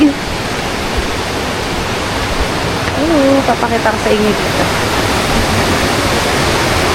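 Loud, continuous rush of water, like a nearby waterfall or fast stream, at Panicuason Hot Spring, with a person speaking briefly over it.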